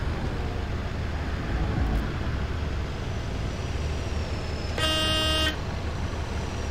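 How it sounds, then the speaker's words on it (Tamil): Road traffic from the Bus Simulator 18 video game: a steady low engine and road rumble throughout, with one loud, sustained car horn blast near the end, no talk over it. "ஓகே டிராஃபிக் ஆரம்பிச்சிருச்சு"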